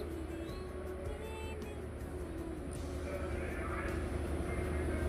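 A train in Ooty rumbling along at a distance, a low continuous drone with faint rattling and a few light clicks on top.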